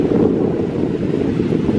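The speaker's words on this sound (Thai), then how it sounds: "จะยินเสียงทะเลป่ะจ้ะ" Steady roar of wind buffeting the microphone with the wash of sea waves on a rocky beach underneath, continuous and fairly loud throughout.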